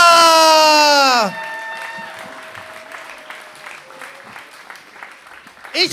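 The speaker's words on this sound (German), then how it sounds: "Applaus bitte für den Poeten, für Martin Geier" Audience at a poetry slam semifinal in Bayreuth applauding the poet Martin Geier, a dense burst of clapping that begins while a voice rings over a loud stage tone, then continues as lighter scattered claps.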